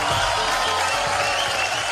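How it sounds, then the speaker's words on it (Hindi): A large crowd applauds at a televised film awards show, the Sony Entertainment Television Guild Film Awards, producing a thick, continuous wash of clapping that stays loud and even throughout. "तालियां पहले तो होनी चाहिए।"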